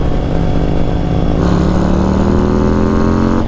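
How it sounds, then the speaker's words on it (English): A Harley-Davidson CVO Street Glide with a 117 cubic inch Milwaukee-Eight engine and big sucker air cleaner drones loud and steady on a freeway, its pitch rising as it accelerates, with a gear change partway through. "this is a 117 cubic inch Milwaukee-Eight engine with a big sucker air cleaner"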